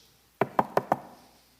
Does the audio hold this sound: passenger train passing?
no